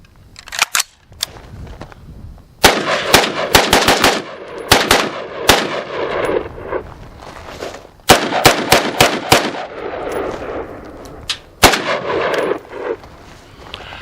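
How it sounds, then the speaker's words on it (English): Old Colt AR-15 rifle firing outdoors, loud sharp reports in quick strings of several shots separated by short pauses, some echo trailing each burst. "I can't come out here and not shoot my old Colt."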